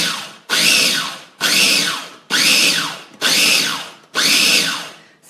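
A blender pulsing to grind almonds with icing sugar for macarons, loud and close, giving six evenly spaced whirring bursts of about a second each, separated by brief pauses.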